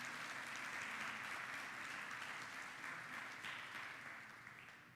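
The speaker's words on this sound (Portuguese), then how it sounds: "Dá um aplauso a Ele bem forte." A church congregation applauds loudly during a sermon, continuous dense clapping that holds steady and then slowly fades toward the end.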